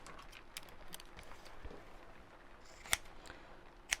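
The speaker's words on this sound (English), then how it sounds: "Then I'm going to just trim off the corners." Sharp scissors snip through the corners of a fabric clutch bag, with a few soft cuts and then two crisp, loud snips close up in a quiet room.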